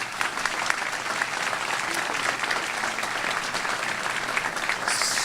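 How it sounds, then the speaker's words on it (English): Applause for honored guests at a morning ribbon cutting for a Jersey City employment and training center, steady and full across the whole stretch, a dense crowd clapping at close range. "give all the honored guests a big round of applause"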